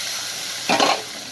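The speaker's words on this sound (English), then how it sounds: "So I'm just sauteing it." Chicken with masala sautéing in ghee gives a brief, close burst of sizzling and stirring for about a third of a second, set against a steady low background hiss.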